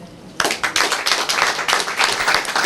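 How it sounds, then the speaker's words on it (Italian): Audience applause breaks out suddenly at a public event in Piazza Rivoluzione, Palermo, a dense, steady crowd clapping that starts after a brief quiet moment and stays loud and close throughout. "Con un applauso."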